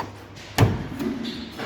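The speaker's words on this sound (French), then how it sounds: "premier essai et la porte se ferme sans difficulté, mais assez violemment" A wooden door swings shut with a DOM Metalux magnetic latch lock, giving one fairly hard thud with a short click of the latch, followed by quiet room tone.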